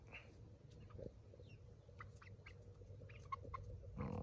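Backyard chickens in a suburban permaculture yard giving soft, scattered clucks and short calls, close but quiet, with a low steady background hum and no talking.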